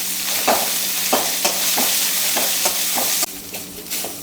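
Drumstick leaves fry and get stirred in a pan for a Kerala-style curry, a steady sizzle broken by regular scraping stirs about every half second, close and fairly loud, with the hiss thinning after three seconds.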